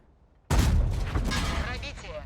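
A tank firing a premium HE shell in World of Tanks: one abrupt loud blast after near silence, followed by a long rumbling, ringing decay.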